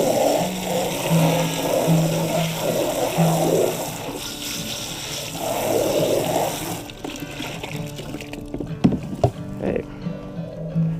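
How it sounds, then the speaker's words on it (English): Water from a garden hose splashes and gurgles while rinsing out a GreenStalk planter section, a close, uneven wash of sound with a few knocks and clatters toward the end. "rinse it out a little bit with the hose"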